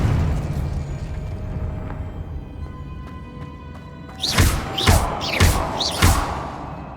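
Confringo blasting spell cast in Hogwarts Legacy bursts in a rapid series of four or five loud explosive booms with sharp crackling tails, following a quieter stretch of ambient game sound.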